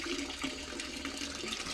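Water runs from a tap on a dairy cow farm, a close, steady hissing splash that stays constant for the whole short stretch.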